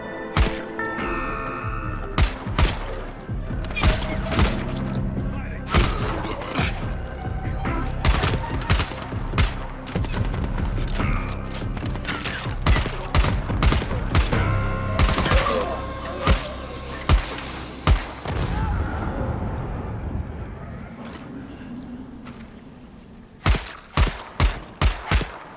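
Rifle gunfire in the video game Dying Light The Beast, with sharp, loud shots cracking out in irregular bursts amid rattling volleys for most of the stretch, then a short lull before a final cluster of shots.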